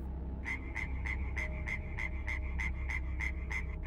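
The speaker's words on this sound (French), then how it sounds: "la grenouille se mit à coasser sans raison" A frog croaks in a fast, regular series of about a dozen evenly spaced calls, clear and close over a faint low hum.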